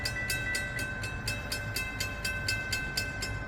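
A train draws nearer at a rail meet in Saint Augustine, with a steady tonal ringing and a regular pulsing beat over a constant low rumble, moderately loud and with no voices.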